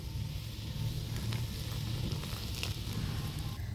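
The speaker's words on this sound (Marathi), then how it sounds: "आता ह्या पिठात गरम केलेलं तेल घालायचं मोहन कडक घालायचं" Heated oil poured into flour dough for gur kapnya sizzles with a steady, soft crackling hiss, faint and continuous throughout.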